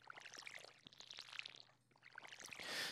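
Watering crops with a watering can in Stardew Valley, soft splashing pours repeated in quick bursts, with a louder rush of water at the end, faint and alone.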